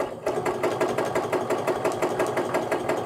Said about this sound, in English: and we're going to start stitching.